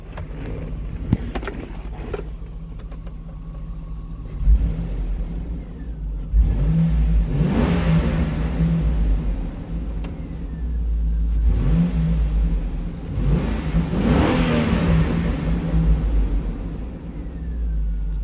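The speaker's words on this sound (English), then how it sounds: "Gotta love that Vortec V8." A 2003 Hummer H2 with a Vortec V8 revs several times while sitting near the mic, each loud rev rising in pitch and falling back over a steady idle rumble.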